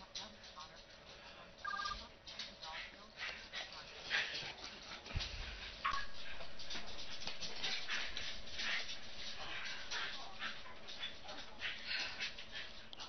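Two dogs loose outside a garden whimper and yip in short, irregular bursts, mixed with people talking throughout.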